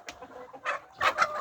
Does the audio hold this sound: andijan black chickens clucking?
yes